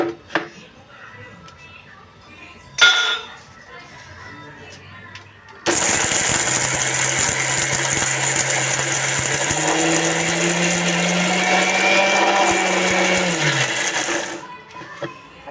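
An electric mixer grinder whirs loudly and steadily for several seconds after a brief clunk, grinding a chutney with water, its motor pitch rising slightly before cutting off.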